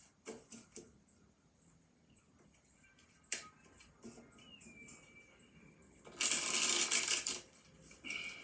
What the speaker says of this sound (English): Okay, Cheyenne, now I've shuffled your cards.